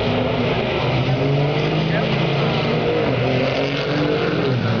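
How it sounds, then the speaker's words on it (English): A diesel Dodge truck at a 2012 NHRDA diesel drag racing event spins its tires in grass, the turbo engine droning loud and steady near the limiter with a sustained rumble, while crowd voices mix in underneath. "Give it a tire spin."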